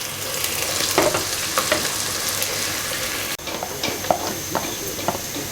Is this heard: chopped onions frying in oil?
yes